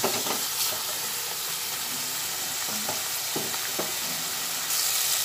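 Sesame and catla fish mixture sizzles in a pan as it is stirred, with a constant loud frying hiss and a few scraping spatula strokes, heard close up.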